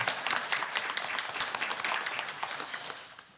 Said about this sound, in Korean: 우리 감사하다고 우리 지휘자님한테 또 박수 한번 해주십시오